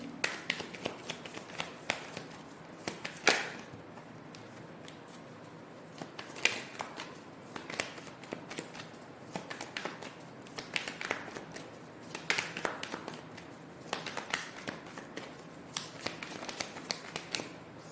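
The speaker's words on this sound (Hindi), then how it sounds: "चलिए थोड़ा सा और शफल करते हैं।" A deck of tarot cards is shuffled over and over, with bursts of riffling flutters and slaps separated by short pauses, close and moderately loud with no voices.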